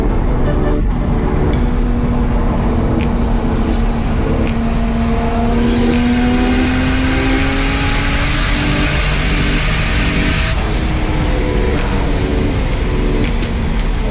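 A tuned car revving and accelerating hard while attempting a wheelie, very loud and close: a raw, continuous engine roar whose pitch climbs and falls, with sharp ticks and pops on top and no talking.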